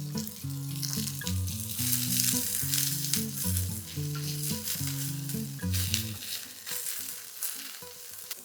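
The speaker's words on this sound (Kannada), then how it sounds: "ಕ್ಯಾಪ್ಸಿಕಮ್ ಒಂದೆರಡು ನಿಮಿಷ ಚೆನ್ನಾಗಿ ಫ್ರೈ ಆಗಲಿ" Capsicum and one large, finely chopped onion sizzle steadily in a pan for a mushroom pepper fry, a continuous close frying hiss with stirring scrapes over a faint background melody.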